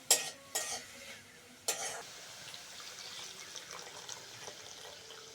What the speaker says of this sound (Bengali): গাজরটা ভালো করে ভেজে নিয়েছি, এবার দুধটা দিয়ে দেবো।